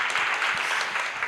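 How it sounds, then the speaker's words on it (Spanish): Audience applause for Bray Cobla at a round-table discussion, a short steady burst of clapping from a seated crowd, moderately loud and even throughout. "otro aplauso para Bray Cobla."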